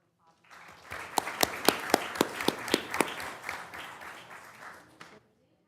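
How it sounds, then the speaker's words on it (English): Applause from an audience at a county board meeting, about four seconds of mixed clapping with a few sharp, louder claps standing out early on, then thinning and fading away. "So let's give them a great big round of applause."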